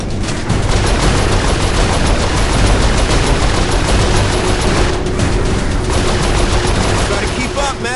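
Dense, continuous gunfire and rapid automatic bursts fill a chaotic Saints Row IV firefight, loud and close throughout with explosions mixed in.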